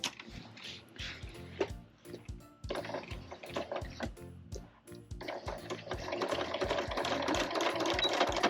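A sewing machine back stitches through layered quilt and canvas with a rhythmic, fast mechanical chatter in uneven runs, growing louder and denser toward the end.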